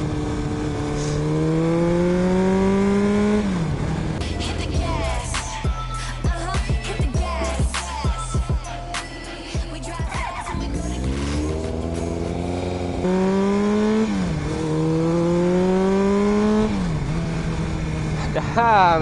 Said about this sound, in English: I really like to ride with this Kawasaki.